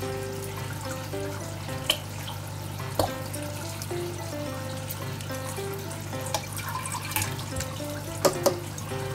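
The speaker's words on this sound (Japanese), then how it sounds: "バクテリアをジャブジャブ入れていきます" Liquid bacteria being poured into a newly set-up aquarium tank: soft, steady splashing and trickling water with a few small drips and clinks, over a constant low hum of aquarium equipment.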